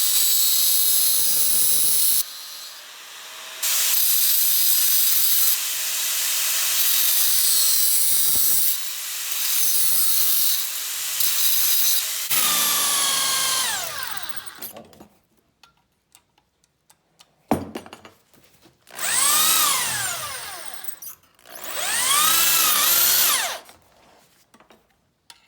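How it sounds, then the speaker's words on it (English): A metal pipe fitting being cut and then drilled out while building a propane forge from scrap, with loud sustained grinding and whining tool bursts that stop and restart, ending in rising drill whines between short pauses. "cut this end off and then drill it out so I can"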